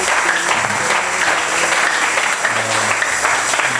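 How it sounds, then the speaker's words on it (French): A church congregation applauds together during a sermon, a dense sustained roar of clapping hands filling the room, loud and continuous. "Applaudissez pour le Seigneur."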